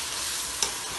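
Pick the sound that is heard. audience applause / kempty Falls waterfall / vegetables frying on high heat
vegetables frying on high heat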